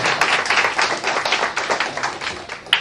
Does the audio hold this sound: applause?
yes